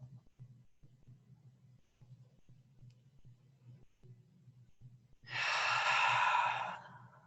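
A deep breath during a breathing exercise in a breathe-and-flow session comes as one long, loud exhale near the end, after several seconds of quiet low hum with faint ticks.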